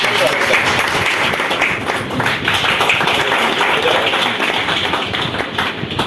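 Loud, sustained audience applause from a crowd at a lecture hall event, dense steady clapping throughout with a few louder individual claps standing out.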